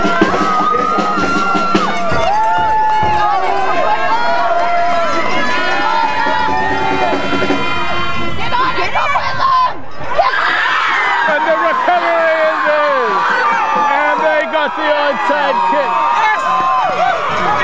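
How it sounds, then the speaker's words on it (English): A capacity crowd at a football championship game roars and cheers from both sides of the stands, a dense, loud, sustained wash of voices with shouts and screams rising above it. "the crowd cheering and cheering"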